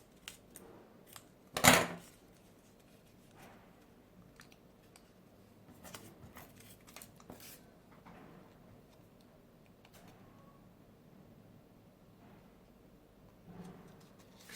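Scissors snip through folded origami paper while making a paper puppy, with one loud close cut early on followed by softer scattered paper rustles and faint clicks in a quiet room.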